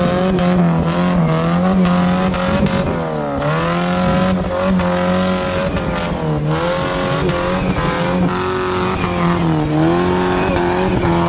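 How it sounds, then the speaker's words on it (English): A loud, roaring vehicle exhaust, engine pitch rising and falling continuously as it revs hard, close and dominant throughout. "I swear this exhaust is like a tornado over here."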